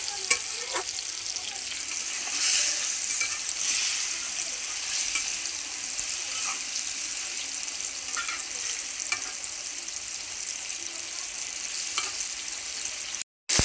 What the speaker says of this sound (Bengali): এর জন্য আমি ছেলে মেয়ের জন্য মাছ ভাজবো